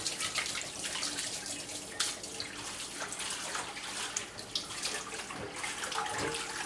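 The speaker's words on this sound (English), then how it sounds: "You just dip it in here and kind of just wash it with water." A new cast iron skillet is dipped in water and washed by hand, giving a continuous close splashing and running-water wash with small clanks and no talk.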